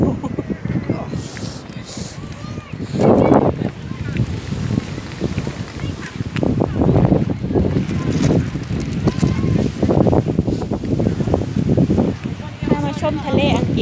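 Strong gusting wind at the English seaside buffets the microphone with continuous rumbling bursts, while someone talks throughout.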